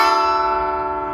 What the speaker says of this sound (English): The understrings sound like this,